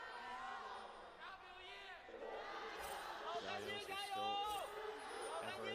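A crowd at an LPL esports playoff match between LGD Gaming and Team WE cheers and murmurs steadily throughout, with a caster's voice speaking over the din.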